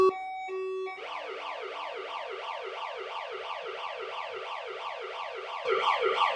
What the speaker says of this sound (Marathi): सायरन वाजव